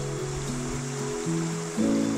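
A small, remote river stream flows steadily beside a campsite, a soft continuous rush of water heard faintly alone.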